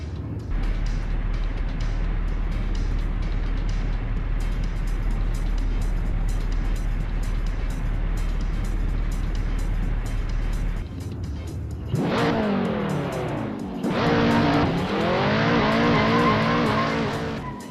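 Ford Fairlane engine in the racing game Assetto Corsa, a steady loud drone held for about eleven seconds, then sharp revving climbs and shifts with rising pitch sweeps, a brief lull, and another hard acceleration run to the end.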